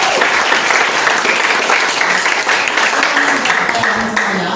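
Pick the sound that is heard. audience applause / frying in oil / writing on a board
audience applause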